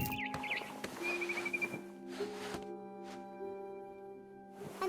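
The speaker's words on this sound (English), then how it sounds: "Then I heard chirping outside my window. It was a barn swallow going back to her nest." A barn swallow chirps outside a window in a house interior, with brief high whistled calls near the start over a steady low hum and faint background ambience.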